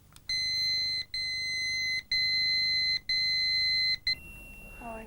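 A WHSmith staff pager bleeps with a message, giving four loud, even electronic tones with short gaps between them, followed by a brief chirp and a faint trailing sound.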